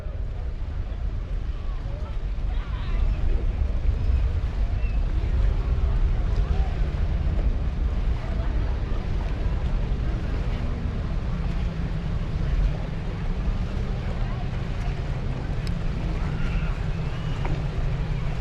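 Unlimited class racing boat engines roar steadily with wind and water noise, a continuous loud drone with no clear breaks, and background talk faintly underneath.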